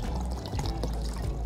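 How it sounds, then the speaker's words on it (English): Room-temperature water poured into a container during black-and-white darkroom chemical mixing, a short steady liquid splash with low gurgling, close and fairly loud, no talking. "I'm going to add some room temperature water"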